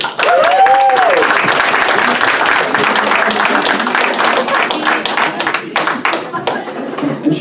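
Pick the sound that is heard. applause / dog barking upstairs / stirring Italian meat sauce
applause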